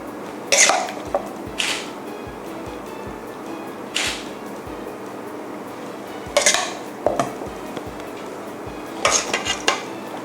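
Cucumber salad with boiled egg being spooned onto a plate: several short clinks and scrapes of a spoon against the dish, spaced apart at close range with no talking.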